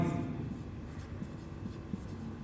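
Chalk or a marker moves across a board while vectors are written out during a physics lesson, producing soft intermittent scratchy strokes at moderate distance over a low room rumble.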